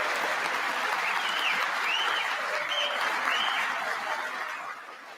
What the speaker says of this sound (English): These people clapping like this man saved the world.